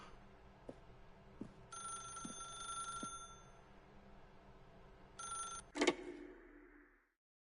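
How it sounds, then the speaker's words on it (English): Telephone in the video game The Stanley Parable rings in several bright, electronic bursts amid soft background tones and taps, ending with a sharp clunk before silence. "If you can truly place your faith in another, then pick up the phone."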